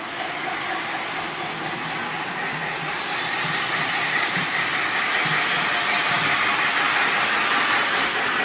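A model train runs steadily on its track, a constant broadband hiss-like rolling noise holding at an even, moderately loud level throughout with no voices.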